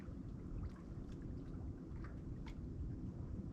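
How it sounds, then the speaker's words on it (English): Steady rain falls outdoors at a waterside dock during a fishing trip, a dense continuous hiss with a few faint distant knocks, no talk. "Well, the rain has found us finally"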